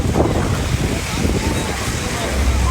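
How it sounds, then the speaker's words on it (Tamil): Rough sea off the northern Pamban coast churns under strong wind gusting around 65 km/h, a loud, continuous roar of surf and wind buffeting the microphone. "பாம்பன் வடக்கு கடல் பகுதி வழக்கத்திற்கு மாறாக கடும் சீற்றத்துடன் காணப்பட்டது"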